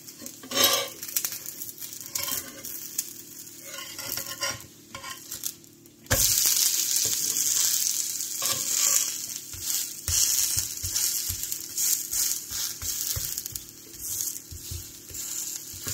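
Ragi and moringa leaf adai frying on a pan over a medium flame just after being flipped, a steady close sizzle that jumps louder when the batter hits the hot surface, with occasional scraping taps of a spatula and no talking.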